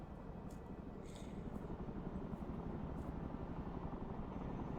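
Military helicopters in the real-time strategy game Broken Arrow: a steady, fairly quiet rotor drone with a low thrumming beat, continuous and alone with no speech.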